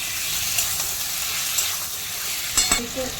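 Chicken and spices sauté in a pan with a continuous hissing sizzle, broken by a few soft stirring scrapes toward the end; no voices.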